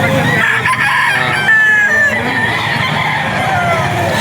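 A Sweater breed rooster crows loudly amid the bustle of the Bocaue pet market, a long strained call over clucking fowl and crowd noise, with voices in the background.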